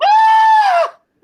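A person screams in imitation of a goat, one loud, sustained nasal bleat-like wail lasting under a second, ending abruptly, then a brief start of another sound.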